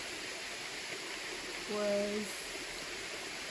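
Steady broadband rush of a waterfall in the Whitsundays fills the scene at moderate distance, continuous and even, with a brief spoken word partway through.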